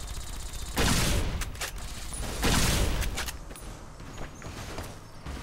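Rapid Gatling laser fire from a hardened sentry bot in Fallout: New Vegas comes in two loud dense bursts about two seconds apart, each one a crackling volley, followed by fainter scattered clatter.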